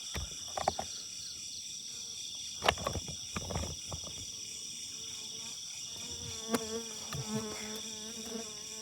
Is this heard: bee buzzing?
yes